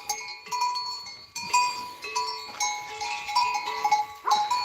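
Goats on a farm give out a run of bleating calls, several overlapping cries in quick succession, fairly close and clear, with no talking.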